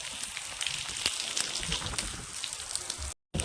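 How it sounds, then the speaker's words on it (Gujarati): Heavy rain pours steadily in a broadband hiss with scattered drop impacts throughout, fairly loud and close, with a brief dropout near the end. "વાવ બ્યુટીફુલ જોરદાર વરસાદ"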